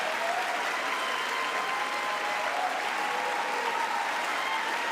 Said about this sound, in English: Even some Republicans are applauding.